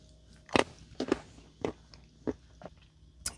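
Bites into a piece of dark, creamy chocolate from a Danish 24-hour military ration give several sharp, close crunches spaced about half a second apart, with quiet chewing in between.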